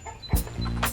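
Chickens cluck in a chicken yard at feeding time, a couple of close, abrupt clucks within a second over a low murmur of other birds.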